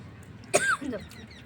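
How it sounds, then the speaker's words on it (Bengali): A single sharp cough from a person with a cold, followed by a short throaty rasp, heard close up against quiet background on a rooftop garden. "কাশি হয়েছে বড্ড ঠান্ডা লেগে গেছে"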